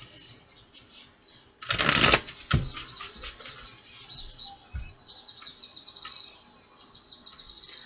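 An oracle card deck being shuffled, a burst of crisp riffling and rustling up close, followed by a few softer card flicks over a quiet background with a faint steady high chirping.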